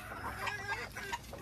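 Hens and a rooster of a Bengal gray jungle fowl cross, a fibro line, clucking in short repeated calls with steady farmyard noise behind.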